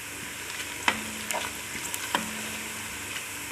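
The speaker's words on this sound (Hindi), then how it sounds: "प्याज हम फ्राई कर रहे हैं।" Onions fry in a pan for an arvi and eggplant dish, a steady close hiss of sizzling oil with a couple of sharp utensil clinks and light stirring, no talk.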